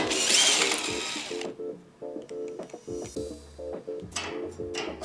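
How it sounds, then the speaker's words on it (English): A hand ratchet rapidly clicks as it backs bolts out of a Koda utility cart. The short bursts of ticking pawl clicks come up close and are separated by brief pauses. "I'm going to take these bolts out"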